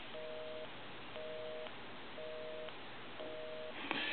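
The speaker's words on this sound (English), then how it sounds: "and it's going to be busy." Busy signal on an A&E Touchtone three-slot payphone: four even beeps, each about half a second long and separated by equal gaps, steady and clear over a faint line hiss.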